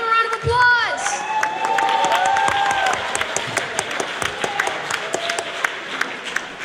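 Audience applause and cheering for a mother standing up at an event, with many hands clapping, whoops and shouts and a few high voices over a loud, continuous crowd roar.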